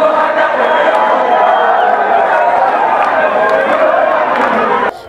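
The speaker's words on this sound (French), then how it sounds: "Des cris de joie se faisaient entendre de partout." A large crowd gathered outside party offices cheers and shouts with joy, a dense, loud roar of many voices that holds steady for about five seconds before dropping off.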